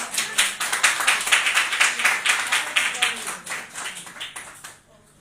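A few people clapping together indoors after a sanitary napkin gel demonstration, a quick steady run of close, even claps for about four seconds that stops abruptly, leaving near silence.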